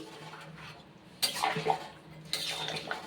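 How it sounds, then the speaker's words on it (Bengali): Metal spoon stirring shahi garam masala into a pot of mutton paya gravy, two close scraping clanks against the pot over a low wet background, with no talking. "এবার এই শাহি গরম মশলা দিয়ে ভালো করে নেড়ে এটাকে মিশিয়ে দিচ্ছি"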